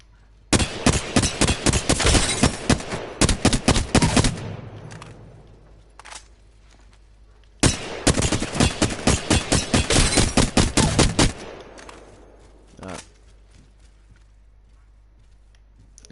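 Flatline assault rifle in Apex Legends fires two long full-auto bursts of rapid, evenly spaced loud shots, each lasting several seconds, separated by a short pause with a few faint clicks.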